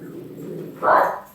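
Dog gives a single short, loud bark close by, heard after a brief low murmur.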